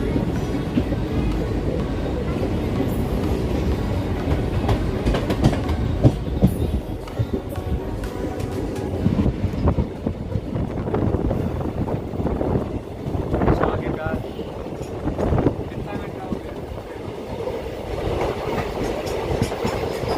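Train running on rails in India, a continuous loud rumble with rattling wagon noise and faint clacking, with wind-like roar throughout.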